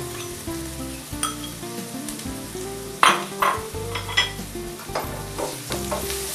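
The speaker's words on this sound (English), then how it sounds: "We will now add to this the prepared paste and fry the paste until the oil separates." Onions and a prepared paste frying in oil in a pan, a constant close sizzle broken by scraping stirs and clinks of a spoon against the pan, no talking.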